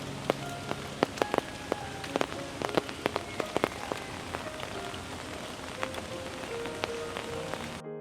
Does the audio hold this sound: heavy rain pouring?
yes